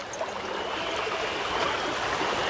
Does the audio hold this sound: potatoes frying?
no